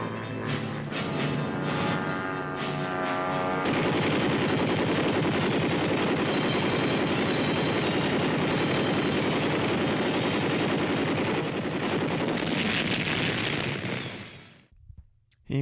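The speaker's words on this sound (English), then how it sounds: "Let's take a look at the M45 in action in some contemporary footage. Here the Quad 50s go into action." An M45 Quadmount with four .50-caliber machine guns firing in archival footage, a sustained loud roar of rapid automatic fire with dense rumbling bursts, continuing for over ten seconds before cutting off abruptly.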